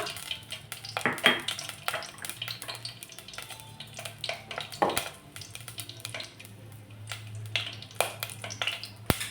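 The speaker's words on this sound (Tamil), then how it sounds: "காஞ்ச மிளகா பொரியட்டும்" Dried red chillies fry in oil in a pan for a greens poriyal, a soft crackle and sizzle under scattered clatter and clicks of a spoon in the pan, fairly quiet and close.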